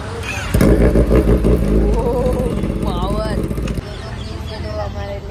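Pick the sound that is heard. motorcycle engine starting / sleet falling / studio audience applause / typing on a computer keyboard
motorcycle engine starting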